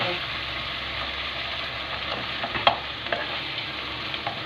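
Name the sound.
pepper paste stirred into fried minced meat in a pan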